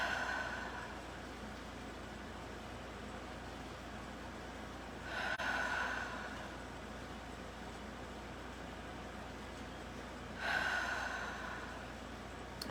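Slow, deep breaths during a guided morning meditation, with a soft airy inhale-exhale swelling roughly every five seconds over a quiet background hum.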